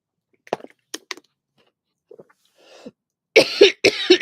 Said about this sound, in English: I've started coughing on live streams.